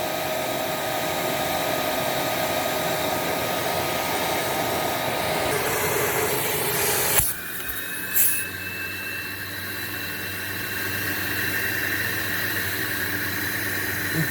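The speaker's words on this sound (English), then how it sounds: "I guess the brush roll doesn't want to shut off for me, so we're only going to do this with the brush roll on" Dust Care Evolution 6709Z vacuum running with its brush roll on, a steady loud whine and airflow hiss; the pitch shifts abruptly midway, then the drone carries on evenly.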